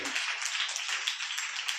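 A church congregation at Open Door Church in Chennai claps hands together in a dense, continuous patter during a worship service, steady and sustained throughout.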